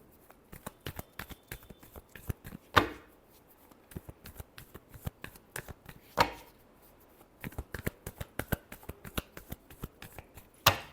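Tarot cards are shuffled and tapped in a quick, irregular run of crisp riffles and snaps, with a few sharper slaps standing out. The sound is close and fairly quiet, with no one talking.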